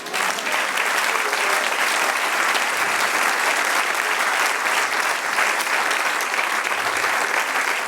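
A church congregation breaks into sustained, loud applause for the Lord, dense clapping from many hands holding steady and unbroken from start to finish.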